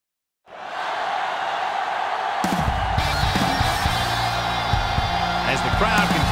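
Stadium crowd noise swells in the Madden 08 football video game, a steady broad roar of fans rising quickly and holding loud throughout, with scattered shouts and thumps layered over it.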